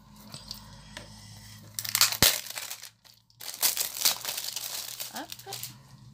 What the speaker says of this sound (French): je vais prendre mon petit cutter pour enlever donc le papier autour